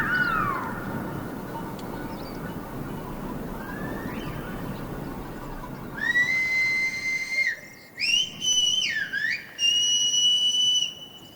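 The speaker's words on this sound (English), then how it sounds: "The whistle is a substitute and compressed language" Silbo Gomero, the whistled language of La Gomera in the Canary Islands: shrill, sliding whistled phrases that start faint over a breathy background and grow louder and closer in several short rising and falling bursts.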